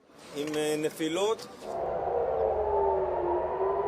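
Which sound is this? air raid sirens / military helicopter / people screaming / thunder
air raid sirens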